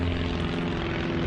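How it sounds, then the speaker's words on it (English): Propeller airplane flying low overhead near an airport beside a canal trail, its engine drone loud and steady, with a rough, throbbing hum that holds through the whole short stretch. "We're close to the airport, so we got airplanes flying over"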